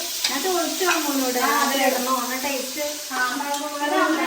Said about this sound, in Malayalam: നമ്മളിപ്പോൾ വറുക്കാൻ വേണ്ടി കോളിഫ്ലവർ എടുത്തോണ്ടേ നമ്മളിപ്പോൾ ഇതില്